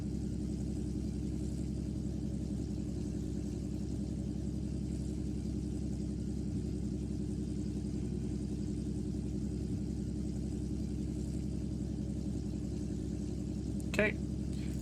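A simulated R44 helicopter in X-Plane 12 drones steadily as its rotor blades spin down, a constant low whir with a short sharp click near the end.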